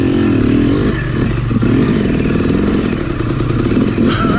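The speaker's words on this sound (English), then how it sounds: "Dirt bike." A Yamaha YZ 250 dirt bike rides a snowy track, its two-stroke engine loud and close, revving and buzzing continuously with rough rises and dips in pitch.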